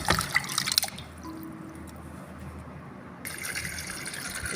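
Malabar spinach (pui shak) leaves being washed by hand in water, with splashing and dripping, then a steady trickle of running tap water, close and fairly quiet.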